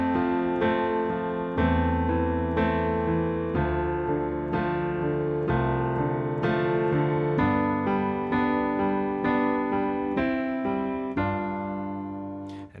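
Solo piano playing the pre-chorus of a song, steady chords with a walking bass line struck in an even rhythm, clear and close, with no voice over it.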